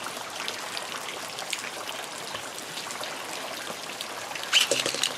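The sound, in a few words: rain falling outdoors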